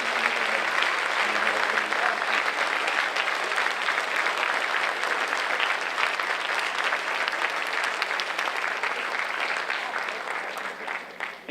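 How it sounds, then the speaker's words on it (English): Steady applause from a large audience at a high school Flag Day ceremony in Middleborough, continuing for about eleven seconds before tapering off at the end. "Again, if you would please join me in a round of applause for the Middleborough Section."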